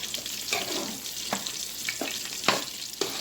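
A pot of milk and butter heats on the stove, giving a soft, steady sizzle and bubbling with a few light clinks and stirring scrapes close by.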